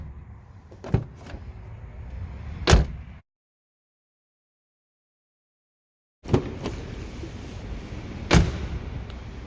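A car's rear driver-side door being shut before any sound insulation is fitted: a few solid thumps over outdoor background noise, then a stretch of silence, then one more loud slam, all close up with no talking.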